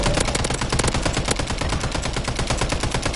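Rapid automatic fire from an MTZ rifle in Warzone, a dense, loud, unbroken stream of close shots rattling without pause throughout.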